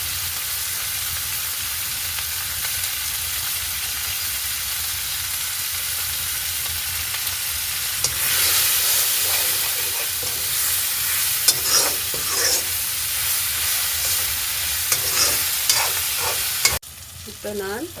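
Dried red chilies fry in hot oil in a pan for a Vanni-style mutton dish, a steady close sizzle that swells louder partway through, with scattered stirring clinks and scrapes; no one speaks.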